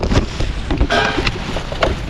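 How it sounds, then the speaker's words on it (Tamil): Strong wind blowing hard through a forest campsite at night, a loud continuous roar with gusting bursts and rustling, close and buffeting the microphone. "இப்போ என்ன ஆச்சுன்னு அந்த அடிச்சு காற்று தூக்க போகுது நண்பர்கள்"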